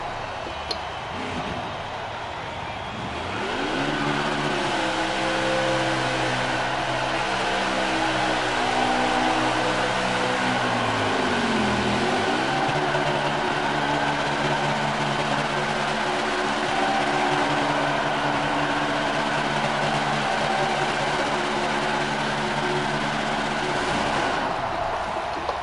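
A NASCAR stock car in the NASCAR Heat 4 video game at Charlotte Motor Speedway does a burnout, a loud, steady engine roar with harmonic pitch sweeps that rises, dips around midway, and holds on, continuous and close throughout.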